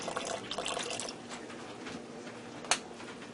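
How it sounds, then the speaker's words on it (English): Worcestershire sauce pours into a pressure cooker pot, a faint close liquid trickle and splash with a short sharp clink near the end, no talking. "Now I'm going to add in some Worcestershire sauce."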